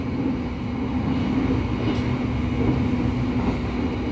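The Argo Parahyangan passenger train speeds through Karawang station, heard as a loud, continuous low rumble of wheels and carriage noise with a steady hum and no pauses.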